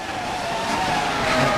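Race cars in the rFactor video game on the Monaco street circuit, a steady, loud engine drone from a pack of cars running close together, with a sustained high whine throughout.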